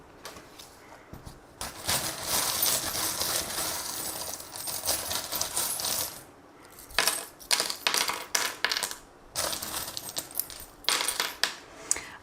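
Small metal charms clink and rattle as they are handled and cast for a tarot reading, with a dense jingling shuffle followed by scattered sharp clicks and taps close by.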